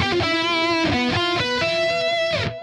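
Distorted electric guitar plays a lead lick leading into the bridge: quick picked and palm-muted notes in a loud, continuous run that ends with a held note, with no talk.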